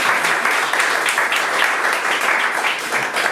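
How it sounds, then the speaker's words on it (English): Audience at a book launch and symposium gives a quick round of applause, a dense, even clatter of many hands held at a steady level throughout. "Quick round of applause for all."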